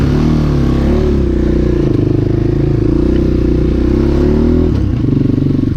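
A 2021 Orion RXB250 dirt bike engine runs at a steady, close, loud idle with a continuous low throbbing drone and rattly mechanical clatter, briefly dipping near the end.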